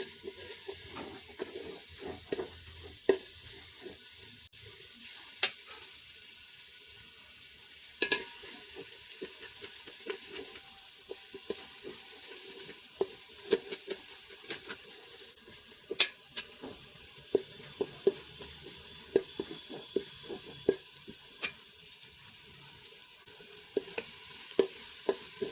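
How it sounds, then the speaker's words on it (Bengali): Spices sautéing in a pan for an Alughati fish-head dish, a steady sizzling hiss broken by frequent sharp scrapes and clicks of stirring, close and without talk. "মশলাগুলি এখন কষিয়ে নিব।"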